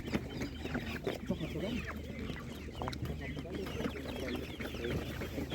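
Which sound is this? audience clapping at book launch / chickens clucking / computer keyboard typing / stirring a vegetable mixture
chickens clucking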